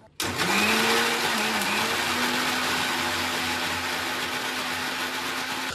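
A blender whirs loud and steady, pureeing cooked rice and lentils into a smooth paste, its motor pitch dipping briefly near the start and then holding constant throughout.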